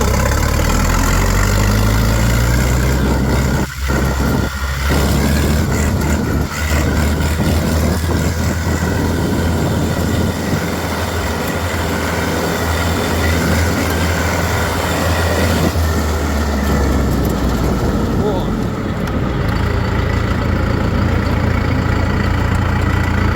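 A 50-horsepower DTZ budget tractor engine runs loud and close while driving, a steady, heavy drone that shifts slightly in pitch and never lets up.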